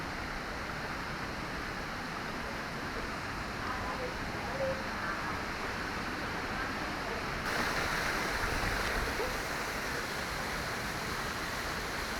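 Steady broadband rush of Twin Falls waterfall in Kalayaan, Laguna, a continuous loud roar of falling water with no clear breaks, slightly stronger toward the end.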